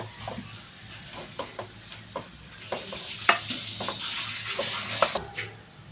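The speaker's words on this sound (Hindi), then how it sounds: "अब हमें इसको अच्छे तरीके से मिक्स कर लेंगे।" Potato samosa filling with chopped mint is stirred in a pan over gentle frying, a spoon scraping in irregular strokes over a soft sizzle, close and moderately quiet with no voices.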